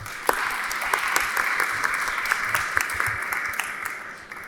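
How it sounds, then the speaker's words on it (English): An audience at a women's health panel applauds a panelist, giving dense, sustained clapping that fills the room, steady and fairly loud throughout, with individual sharp claps standing out near the front. "please can we clap for her?"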